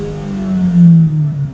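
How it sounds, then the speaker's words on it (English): A 2018 Mazda MX-5 RF roadster's 2-litre naturally aspirated engine revving briefly, a close, loud low drone that swells and eases within a second and a half, alone without talk. "you want to get the power down and you want to hear the roar of the engine"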